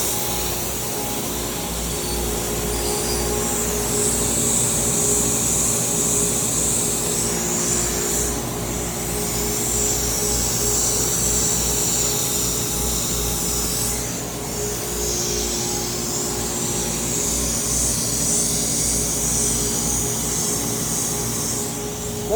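A small CNC machine runs steadily while cutting crossbar retainers for a Corbin ED6200 exit device, giving a continuous loud whirring, hissing drone with slight swells in level.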